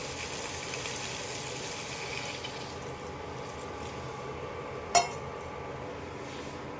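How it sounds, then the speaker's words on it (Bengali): Water poured into a cooking pan of food that has been sautéing for a long time: a steady hissing pour for a couple of seconds, then a quieter simmer with one sharp clink midway. "এখন জল দিয়ে দেবো"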